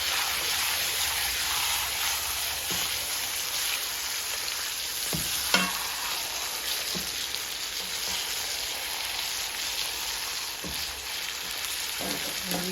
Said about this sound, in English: we're just going to let these brown and just simmer with that onion, garlic, thyme, 2 teaspoons of butter, and your oil